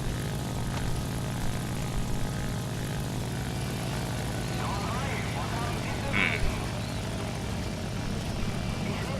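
The steady, droning propeller engine of a Fw-190 fighter in flight in the War Thunder video game, overheating, holds a constant loud hum throughout with little variation.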